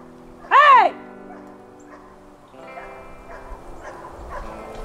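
Dogs near puppies trapped under a bombed-out trailer: one loud, close bark or yip stands out sharply, followed by quieter, distant yapping and rustling.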